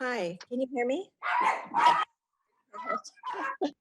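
Dogs bark at home in the background of an online community council meeting, intermittent and mixed in with a person talking.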